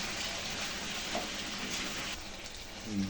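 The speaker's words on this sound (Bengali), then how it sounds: "এবার কষছি। কষে নেওয়ার পরে তারপর জল দেবো" Meat being sautéed dry in a pan after salting, a steady, dense sizzle like heavy rain that fills the whole stretch, easing slightly near the end with a faint stir.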